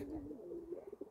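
Pet pigeons coo softly at night, a short, near, fairly quiet burst of throaty cooing with a few pulsing notes at the end.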